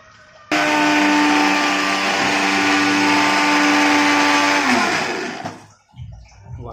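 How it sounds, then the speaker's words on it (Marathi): Mixer grinder grinding roasted garlic, roasted onion, roasted coconut and roasted sesame into a paste, a loud steady high whir that starts abruptly, runs for about five seconds and winds down, followed by a short clatter. "वाटण बारीक करून घेत आहोत आता."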